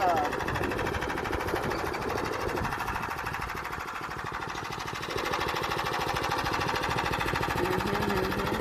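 A Tillotson 212cc engine runs on a Murray Explorer, churning out a steady, loud mechanical drone with a loose rattle. The drone dips briefly midway, and someone talks over it throughout.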